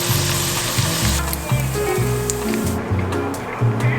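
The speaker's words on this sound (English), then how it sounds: "In the meantime, I'm gonna cook down my pancetta, and we're just gonna cook that down to render out the fat." Pancetta rendering its fat in a pan gives off a continuous close hissing sizzle, fairly loud and even throughout, with faint low tones underneath.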